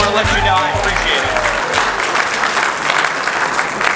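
A crowd of over 350 people at Mayor Mike Pantelides' fundraising event in Annapolis, Maryland, breaks into loud, sustained applause that fills the room, with a few voices mixed into the clapping.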